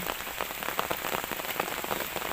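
Steady rain falls outdoors during termite-mushroom digging, a dense continuous patter with scattered louder drops, moderately loud and with no voices.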